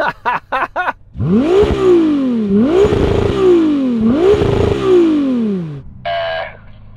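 A Ferrari 296 GTB engine revs loudly and close, rising and falling through three sweeping throttle blips, with brief clatter before and after.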